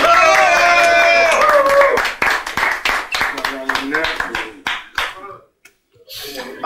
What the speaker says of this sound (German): Applaus für meine Assistenten